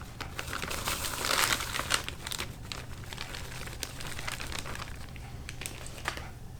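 A packet of cake mix being cut open and handled, giving close crinkling and rustling of plastic wrapper with a few sharp snips, steady and without voices.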